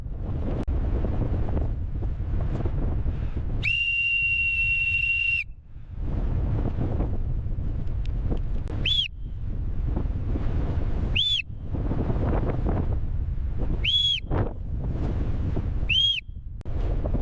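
Sharp, piercing blasts from a plastic rescue whistle ring out over heavy wind buffeting the microphone: one long blast, then four shorter ones spaced a couple of seconds apart.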